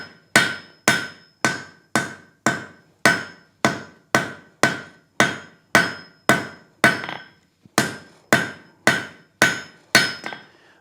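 A hammer forges a slight taper on a logdog, about sixteen close, ringing blows landing in a steady, even rhythm, each with a short metallic decay and no speech.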